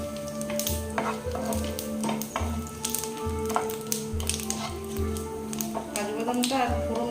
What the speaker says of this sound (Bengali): কাজু বাদামটা আর ফোড়নটা একটু ভাজা ভাজা হবে।